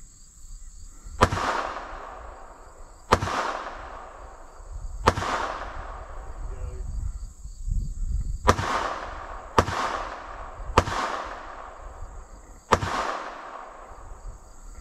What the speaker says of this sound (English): his first time shooting a 22 pistol